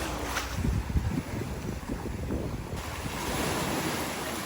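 Ocean waves wash onto a beach at El Nido, a steady, close roar of surf with heavier breaking swells early on and gusts of wind buffeting the microphone throughout.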